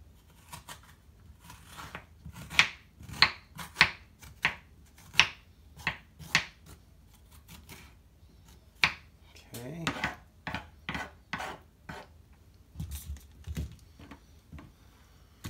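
Seeds and pulp being scooped out of a halved winter squash, a series of close, sharp scraping clicks and crunches in irregular bursts, some quick and clustered, with faint background noise.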